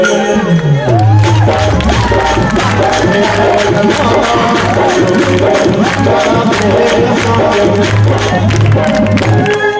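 An audience at a Maithili stage show makes loud, continuous crowd noise that mixes with music, with a steady wash of clapping and cheering throughout, and voices blend into the mix.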